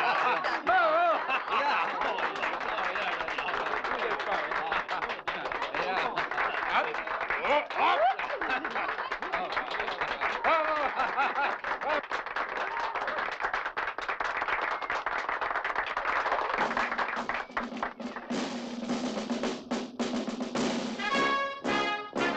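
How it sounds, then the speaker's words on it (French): Audience applause at a performance, dense rapid clapping mixed with chuckles and chatter that carries for most of the stretch, then gives way to a speaking voice near the end. "Mesdames et messieurs, d'applaudir maintenant."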